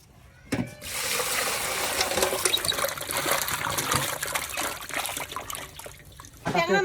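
Water is poured over freshly caught fish in a container, a steady splashing trickle that starts abruptly and runs for several seconds, close by, with a brief thump near the end.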